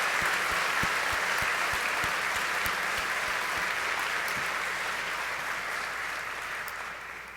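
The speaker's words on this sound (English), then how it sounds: "let's give your family and friends a warm round of applause for all of their support" A large audience at the MIT Sloan MBA convocation applauds warmly, dense sustained clapping that carries on steadily and tapers slightly toward the end.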